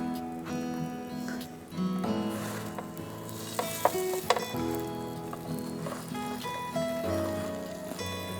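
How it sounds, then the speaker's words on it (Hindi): A chicken panini cooks on a griller with a faint, soft sizzle and occasional light clicks, heard quietly under steady tonal sounds in the background. "अच्छी तरह से ग्रिलर पे ग्रिल होने दें"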